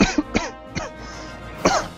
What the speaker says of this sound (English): Of course, right when you say that, I cough.